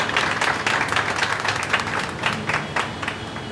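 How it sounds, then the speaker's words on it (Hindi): An audience claps for civil defence volunteers at a World Civil Defence Day event: brisk, closely packed hand claps form a lively, fairly near round of applause lasting a few seconds. "सबसे पहले तो भाई जितने रज़ाकार हैं सबके लिए तालियां प्लीज़"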